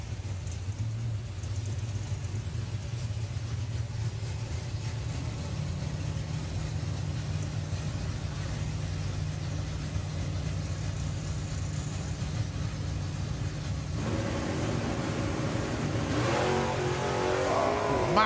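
Nostalgia drag racing with a Soper and Hecker Roadrunner against a 1969 Camaro: steady, loud engine rumble throughout, rising into harder revving near the end.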